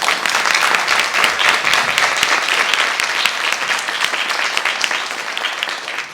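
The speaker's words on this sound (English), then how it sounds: "we think that you deserve a big round of applause for your participation." Sustained audience applause for students at a school district spelling bee, a dense, steady wash of many hands clapping loudly throughout, continuing evenly until a slight fade at the end.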